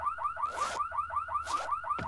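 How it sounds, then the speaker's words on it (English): A video game alarm blares continuously in a rapid, repeating rising whoop pattern, loud and close, with a couple of bursts of noise from other game sounds mixed in. "Can you guys please turn the alarm off?"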